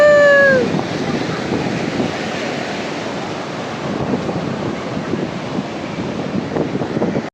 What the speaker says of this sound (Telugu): ఈ కొండల మధ్య నీళ్ళు వస్తుంటే